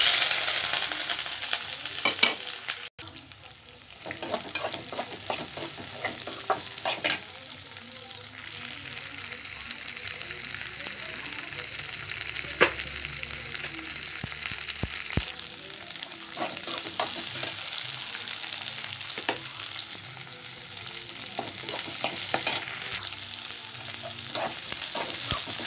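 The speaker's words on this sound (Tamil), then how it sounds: "வெங்காயம் பச்சை மிளகாய் நல்லா கொஞ்சம் வதங்கட்டுங்க" Sliced onions and green chilies frying in hot oil for a chicken masala gravy, with a steady close sizzle and scattered clinks and scrapes of a spoon stirring, with no talking.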